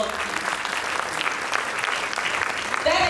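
Audience applause at a sickle cell foundation event, steady dense clapping from a sizable crowd throughout, with a louder swell near the end.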